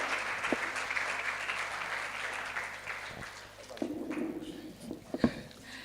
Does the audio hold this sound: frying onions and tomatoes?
no